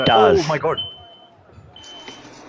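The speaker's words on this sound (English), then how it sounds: "I think that's my fire alarm." A home fire alarm sounds during an online racing league call, a steady high electronic tone that starts after a man's speech fades, cuts out briefly, then resumes faintly in the background.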